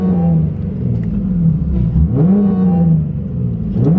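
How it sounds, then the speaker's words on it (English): A modified car engine revs close by, a loud throaty rumble that climbs in pitch with a couple of throttle blips and falls back to a lumpy idle in between. "So I'm gonna give y'all a couple revs"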